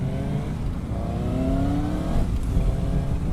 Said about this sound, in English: the exhaust is too muted for this bike. I can barely hear its engine.